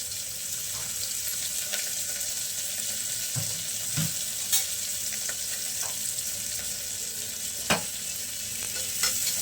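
Chopped onion and green chillies fry in hot oil and are stirred in a pan, a steady close sizzle with occasional scraping and clinking spoon strokes throughout.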